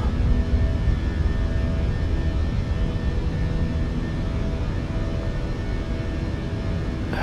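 Airliner jet engines roar steadily through a takeoff climb in Microsoft Flight Simulator 2024, a dense continuous rumble with a faint whine above it, loud and unbroken for the whole stretch.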